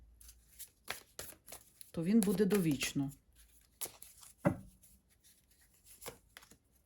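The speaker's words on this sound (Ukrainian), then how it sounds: "Оце на нього карти я кладу." Several soft card slaps and shuffling rustles, close by and irregular, with a person speaking briefly partway through.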